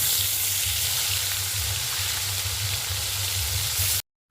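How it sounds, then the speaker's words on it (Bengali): Fish frying in hot oil in a heated wok, a steady loud sizzle with a rhythmic low bubbling that runs throughout before cutting off abruptly near the end. "মাছগুলোকে এবার দিয়ে দেবো আমি কড়াইতে।"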